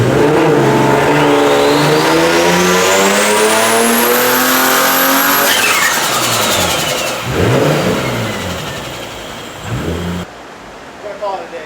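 A car engine on a dyno revs hard and climbs steadily to a high-pitched scream, then drops back off and settles, loud and close, with brief talk near the end.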